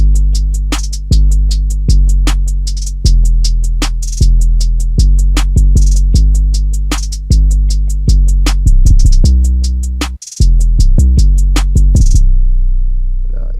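Loud trap beat with deep sliding bass booms and snare hits, topped by rapid hi-hats shaped with delay and a softened attack, briefly cutting out near the end before resuming, with no voices.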